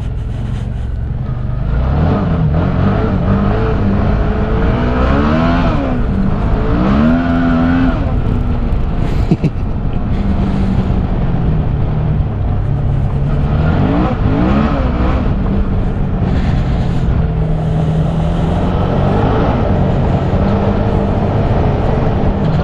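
A motorcycle rides steadily, its engine droning loud and close with wind noise and gentle rises and falls in pitch as it changes speed.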